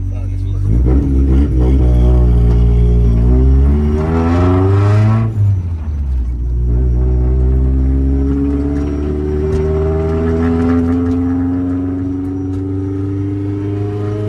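A Honda Civic EK with a newly fitted motor revs repeatedly, the engine note rising and falling in loud close surges, then settling into a climbing rev as the car pulls away; a voice talks over it.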